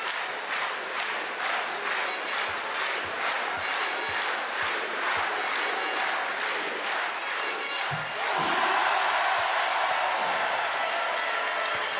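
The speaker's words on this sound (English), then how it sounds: "Great atmosphere, great crowd, great party." Arena crowd at a women's basketball game, France against Great Britain at EuroBasket Women 2013, a loud continuous roar with rhythmic clapping or chanting pulses, swelling slightly louder toward the end.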